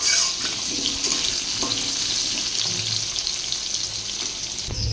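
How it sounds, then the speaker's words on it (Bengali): Potatoes fry in oil in a kitchen pan, giving a steady, moderately loud sizzle with some watery crackle. No one speaks over it. "আলুগুলো একটু ভেজে নেব"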